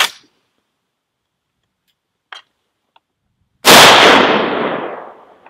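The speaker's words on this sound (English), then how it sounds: "So first shot's fired" A single sharp, loud rifle shot from a 6.5 Creedmoor fitted with a Ballistic Advantage barrel cracks out after a few faint clicks, followed by a long decaying echo across the range.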